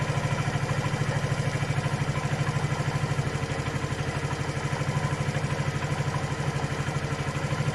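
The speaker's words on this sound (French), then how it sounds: "Le moteur tourne bien." A Jinlun JL125-11 motorcycle engine idles steadily after its carburetor has been adjusted, with a fast, even, close-up putter and a slight mechanical clatter that runs without a break.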